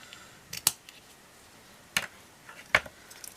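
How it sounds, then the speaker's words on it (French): Three sharp snips of scissors cutting ribbon in a quiet room, spaced unevenly, with faint rustling between them. "Il est très bien ce ciseau là pour couper"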